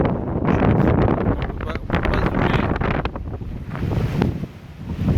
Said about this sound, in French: parce que ici il y a pas mal de vent, donc on est en bord de mer